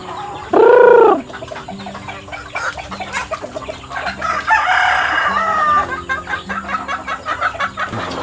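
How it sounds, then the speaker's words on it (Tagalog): Backyard farm with a rooster crowing once loudly and close near the start, followed by chickens clucking and other birds calling in the background. "Daming manok niya mga kaparmers."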